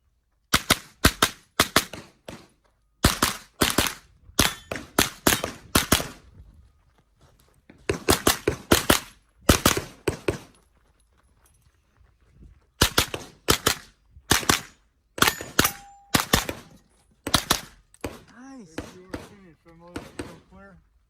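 Rapid bursts of gunshots during a TCSA practical shooting stage run, loud and close, fired in quick strings of several shots separated by short pauses while moving between positions, with a faint voice near the end.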